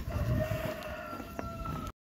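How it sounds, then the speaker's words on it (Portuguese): A rooster crowing nearby in Portugal, a drawn-out tonal call over faint outdoor background that cuts off abruptly into silence. "Eu gosto desse galo que mora aqui perto. Todo dia a gente ouve"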